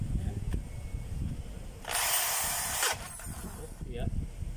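A handheld power hammer tool fires once in a single loud, harsh burst about a second long, close by, with quieter handling noises before and after.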